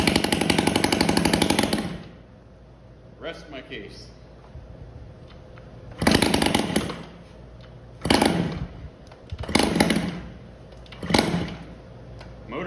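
A Yamaha QT-50 moped engine revs in loud, rough bursts, dropping to a faint idle between four or five sharp throttle blips, with a voice speaking briefly over it.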